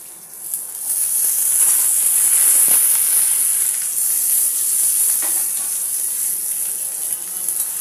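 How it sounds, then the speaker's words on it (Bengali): Potato pieces fry in oil in a pan, a loud, even hiss of sizzling that swells after the first second and holds steady, with faint stirring clatters. "আলুগুলো একটু ভেজে নেবো"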